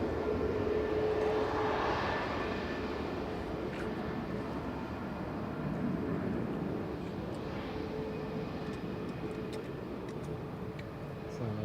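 Airliners taxiing at Manchester Airport, a steady broadband jet engine roar with a rising whine, continuous and moderately distant, with faint voices in the background.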